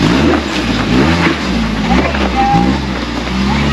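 An engine revs hard through a twist-grip throttle, a loud, close, wavering roar with pitch surging up and down over a few seconds, a voice briefly audible underneath.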